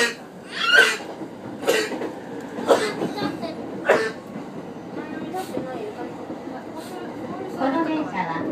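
E231 series local train on the Sobu Line running between Kinshicho and Shin-Koiwa, heard from inside; a steady rumble with rhythmic rail clacks under a spoken onboard announcement.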